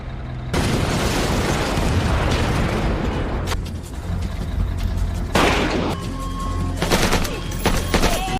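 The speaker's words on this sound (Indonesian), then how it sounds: "Beckett bersiap dengan snipernya berhasil melumpuhkan beberapa prajurit, sedangkan Sophia membantunya dengan menembak jarak dekat" Sniper rifle shots and gunfire from an action film crack and boom in dense, loud volleys, with heavy bursts of shooting and explosions layered over a continuous battle din.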